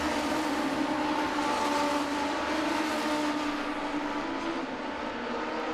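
Legends race cars in a semi-pro main event at Langley Speedway roar past on the front straightaway, a sustained blended engine drone with buzzing revs, loud and continuous from a trackside distance.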